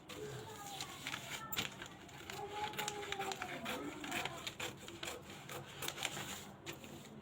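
Paper is cut into a katori blouse pattern, with quiet, irregular crisp snips and rustles and a faint voice in the background.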